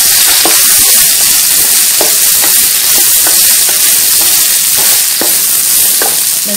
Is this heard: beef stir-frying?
yes